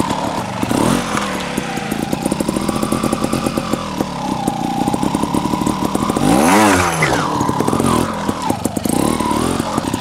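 A TRRS One RR trial motorcycle engine revving in sharp throttle blips, loud and close, with a rising and falling rasp as the rider works over obstacles.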